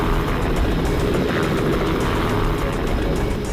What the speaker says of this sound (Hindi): यकीन नहीं हो रहा वो हेलीकॉप्टर में है